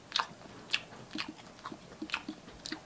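Someone bites into grilled skin and heart satay skewers and chews at close range, with a handful of crisp bites followed by softer chewing.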